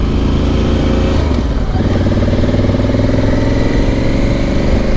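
Motorcycles riding past on a road in Poland, a loud, steady engine drone with a rising rev as a bike passes close by.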